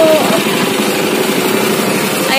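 A motorcycle engine runs steadily and close by for the whole stretch, a continuous droning idle with rough texture, with people talking over it during a river crossing trip through forest.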